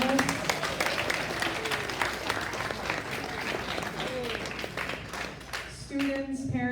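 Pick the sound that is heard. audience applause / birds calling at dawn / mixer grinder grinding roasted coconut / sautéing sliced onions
audience applause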